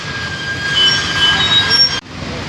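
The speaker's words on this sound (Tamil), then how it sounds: "மேலே பாருங்கள், மெட்ரோ போகுது" A metro train rumbles past loudly and close by, with high metallic wheel squeals over a steady roar that cuts off abruptly near the end.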